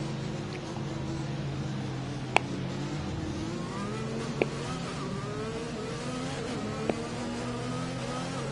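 A V8 safety car engine in a racing video game drones steadily throughout, with a throaty, rumbling tone and a few sharp clicks on top, at moderate volume.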